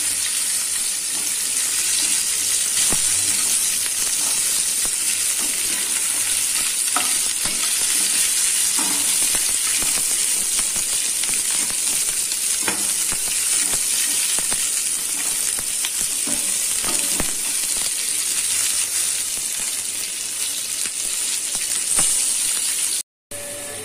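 Onions fry for soya chilli in a pan: a loud, dense, continuous sizzle and crackle close up, steady for over twenty seconds with faint scattered pops and occasional stirring, cutting off abruptly at the end, with no voices.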